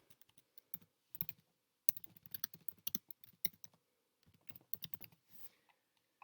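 Someone types on a computer keyboard in quick, close clicking bursts with short pauses between them, faint and with no voices.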